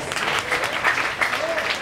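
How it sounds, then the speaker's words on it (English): An audience applauds performers on a boat in a harbor attack stunt show, giving a short, dense burst of clapping that holds steady for about two seconds. "let's give them a big round of applause."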